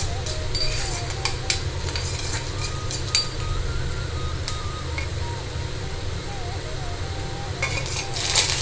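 Mustard seeds, urad dal, a green chilli and curry leaves crackle and sizzle in hot oil, a steady bubbling hiss with occasional spoon clinks against the pan and faint background voices.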